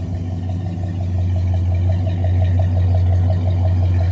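A mostly original 1969 Buick LeSabre engine idles steadily, a deep even hum with a soft rhythmic pulse running through it, close and unbroken for the whole stretch with no voices.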